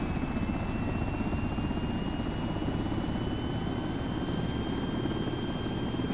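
A helicopter engine in a video game drones steadily and loudly with a constant whine, showing no clear fall in pitch over the few seconds, and no voices are heard.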